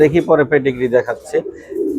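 Racing pigeons coo in a series of low, throaty rolling calls close by, with a brief pause and a softer coo at the end.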